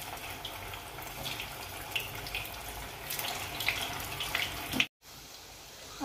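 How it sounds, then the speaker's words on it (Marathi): Dal baati dough balls deep-fry in hot oil, giving a steady, moderately quiet sizzling hiss with crackles, then a brief cutout before the bubbling resumes. "आता मस्त या तेल गरम झाले तर तळून घेऊ."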